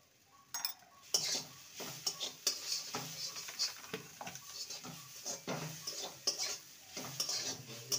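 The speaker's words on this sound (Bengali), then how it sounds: "মটরশুঁটির মিশ্রণটাকে ভালো করে নেড়ে নিয়েছি" A green pea mixture with cumin, coriander and turmeric is stirred in a pan, with repeated metal spoon scrapes and clinks against the pan over a faint sizzle, close by and rhythmic, with no voices.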